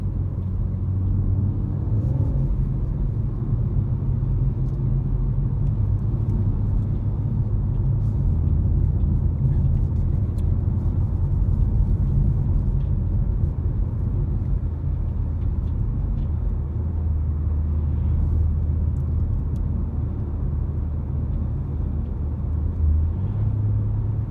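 A BMW M140i Shadow Edition hot hatchback drives along with a steady, low engine drone and road rumble heard from inside the cabin, continuous and even throughout, with no voices.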